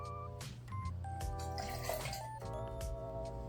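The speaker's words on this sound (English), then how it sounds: "And next, we add an ounce of lime juice." Lime juice pours into a cocktail mixing glass in a short liquid trickle with light drips and faint glass tones, close and quiet.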